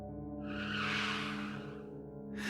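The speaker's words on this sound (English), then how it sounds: "Heather slammed on the brakes, sliding to a stop just before she hit one of the police cars." A car brakes hard and skids to a stop on a road blocked by police cars, a sustained tire squeal that swells and fades over a couple of seconds, close and loud, with no voices.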